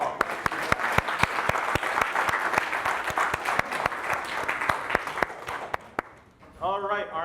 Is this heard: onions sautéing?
no